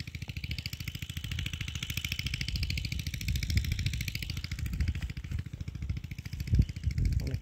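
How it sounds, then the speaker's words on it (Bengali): A rice harvesting machine runs in a paddy field with a rapid, steady mechanical chugging and clatter, close and continuous, with a brief louder knock near the end. "মেশিন চালালাম"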